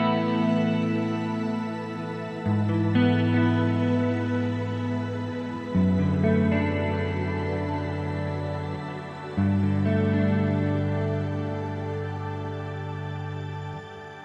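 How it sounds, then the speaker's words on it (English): Sustained guitar chords wash out into a shimmering reverb, bright octave-up tails hanging above each change in a slow, spacious swell. "I'm shifting the reverb from the regular reverb to the shimmer reverb."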